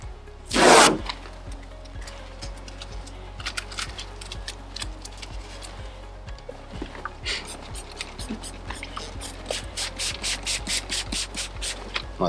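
Cloth wiping polish residue off car paint with an IPA spray, giving soft repeated rubbing strokes in a steady rhythm, close and fairly quiet, after a brief burst of spray near the start.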